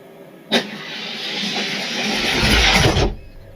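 A Probe Funny Car makes a drag race run in a semi-final: a sudden burst, then a loud sustained engine roar that swells and cuts off after about three seconds.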